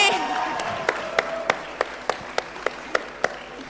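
Sharp, evenly spaced claps ring out in a steady rhythm, about three per second, during an informal Spanish-language chat with a politician, following a brief voice at the start and sounding close over a quiet room.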